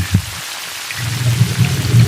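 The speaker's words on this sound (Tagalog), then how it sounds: "Mag-add tayo ng isang litrong tubig." A liter of water is poured into a cooking pot holding boiled whole chicken, a brief splash at the start, then a steady low pouring rush building over the last second, close and alone.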